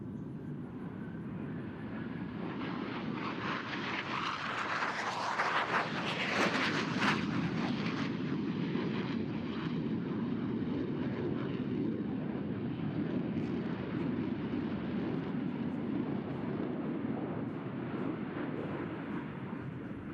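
Jet aircraft flying an opposing inverted-to-inverted roll at a naval air station air show, a loud sustained roar that swells to a peak as they cross center and then holds a steady rushing drone.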